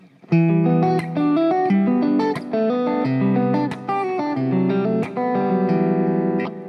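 Fingerpicked acoustic guitar chords in percussive fingerstyle, with sharp percussive slaps between them, moving through a short melodic phrase at a steady pace.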